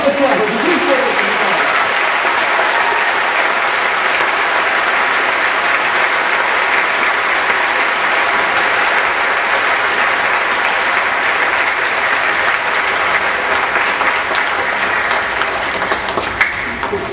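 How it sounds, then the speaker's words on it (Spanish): A church congregation at Easter Sunday Mass applauds loudly and steadily for about seventeen seconds, a dense, sustained clatter of many hands with a few voices briefly audible at the start. "Un aplauso a Jesucristo resucitado."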